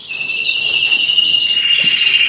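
Red canaries sing in a bird room, with a sustained high, bright trill holding steady and a second rolling phrase joining near the end, close and clear over a quiet background.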